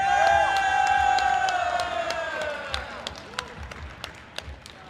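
Audience at a powerlifting championship cheers and applauds a placer at the awards, a loud burst of clapping, whoops and shouts that tapers into scattered claps.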